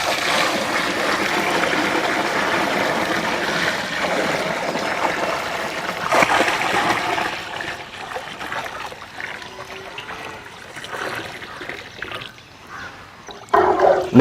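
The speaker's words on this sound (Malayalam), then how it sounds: "പാലൊഴിച്ച് കൊടുക്കാം." Milk pours into a large uruli pot for semiya paal payasam, a soft continuous trickling gush that thins and wavers, with a few handling knocks and a louder splash near the end.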